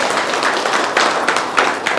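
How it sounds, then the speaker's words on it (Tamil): An audience claps loudly and steadily throughout, a dense sustained round of applause with a few sharper peaks. "இதுக்கு ஒரு பெரிய கைத்தட்டல்"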